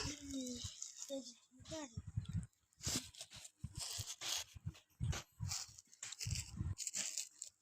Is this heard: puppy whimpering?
yes